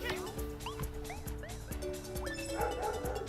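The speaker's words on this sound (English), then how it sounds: "Oh, there goes my dog barking." A dog barks in repeated short yips and whimpers behind game music and sound effects, several barks spaced through a few seconds.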